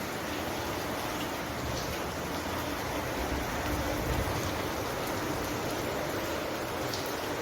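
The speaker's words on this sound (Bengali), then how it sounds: "আওয়াজ শুনতে পাচ্ছ তো বৃষ্টি হচ্ছে খুব জোর বৃষ্টিটা নেমেছে" A steady, dense hiss of heavy rain falls continuously without pause, loud and even throughout.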